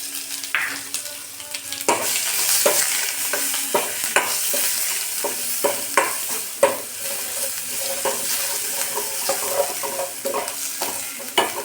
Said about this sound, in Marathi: जिरं मोहरी तडतडत आहे लगेच तडत नाही हिंग थोडासा लसणची पेस्ट